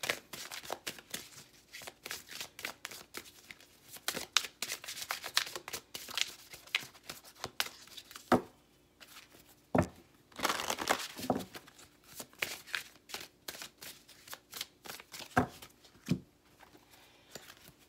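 A tarot deck being shuffled by hand, a steady run of soft papery riffles and flicks with sharper snaps of cards now and then, close and fairly quiet with no talking.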